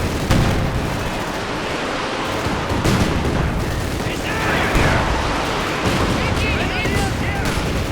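Battle sounds from the Company of Heroes 2 strategy game, with repeated rocket artillery launches and explosions rumbling continuously, while a commentator talks over the combat.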